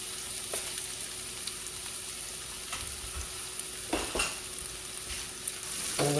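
Rice pilaf frying in a hot pan over medium heat, a steady close sizzle with occasional scraping and clinking as it is stirred.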